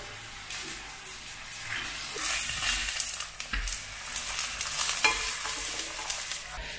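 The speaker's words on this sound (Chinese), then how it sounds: "这锅烧热，兑点油，给它搁进去，慢慢的炕，炕两面金黄的关火了" Pumpkin cakes pan-frying in hot oil give a faint, uneven sizzle and crackle, with light scraping and shuffling from the pan, no talk.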